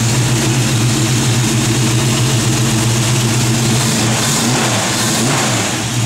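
A 1970 Ford Mustang V8 with a performance cam and Edelbrock aluminum heads revs loudly and steadily up close, its deep choppy rumble sustained for the whole stretch with no talking.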